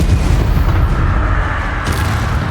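Confringo blasting spell exploding in Hogwarts Legacy, a dense, continuous run of booming blasts and crackling bursts layered over game music, loud and close with no pauses.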